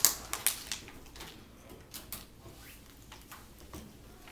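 Calculator buttons being pressed in a classroom, a quick run of faint plastic taps and clicks, spaced unevenly over a quiet background.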